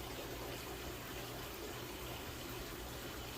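Tap water runs in a steady, even rush while filling a container to clean a tank, a constant broadband flow with no pauses and no talking.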